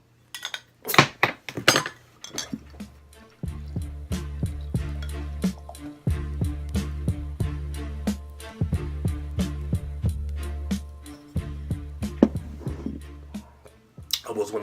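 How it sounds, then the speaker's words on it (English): A bottle of Blue Point Citrus Plunge IPA is opened and poured into a glass: clinks and taps of glass over a steady gurgling flow of liquid, close up, with a few sharp knocks near the end. "So let's go ahead and get it open and get it into a glass,"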